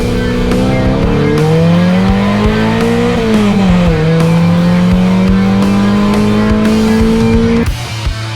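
A project race car lapping a circuit, its engine loud and close with a sustained droning note that climbs and dips through gear changes and corners before cutting off near the end.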